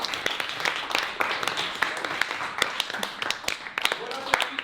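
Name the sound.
audience applause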